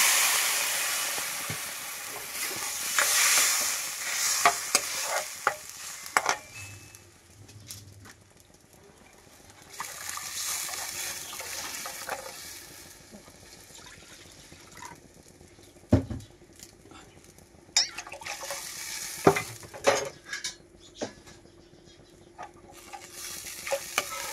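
Ginger leaf paste with ginger, garlic, green chilli and onion spatters and sizzles in a pan, punctuated by bursts of stirring, scraping and spoon knocks, with quieter gaps in between and no speech.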